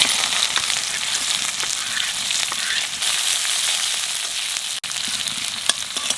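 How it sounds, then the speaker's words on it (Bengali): Five-spice and chopped onion sizzle loudly in hot oil for pui tel, a steady dense frying hiss with a few soft stirring scrapes and a brief dip near the end. "তেলের উপর দিয়ে দেবো পাঁচফোড়ন, এইবার দিয়ে দেবো পেঁয়াজ কুচি"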